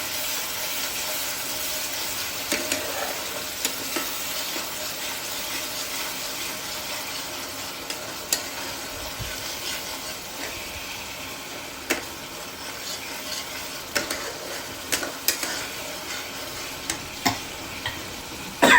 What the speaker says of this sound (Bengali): আদা রসুন পেঁয়াজ টমেটো এগুলো পুরো কষিয়ে নিলাম